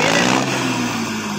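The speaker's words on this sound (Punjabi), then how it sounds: "ਰਾਜਨ ਕਹਿੰਦੇ ਹੁਣ ਆਵਾਜ਼ ਸੁਣਾਉਣ ਲੱਗਿਆ ਟਰੈਕਟਰ ਦੀ" A tractor engine runs close by with a loud, steady drone and no talk.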